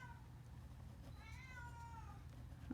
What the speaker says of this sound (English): I apologize for the cat meowing in the background if you can hear that.